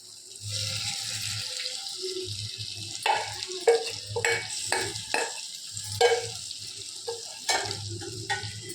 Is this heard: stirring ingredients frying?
yes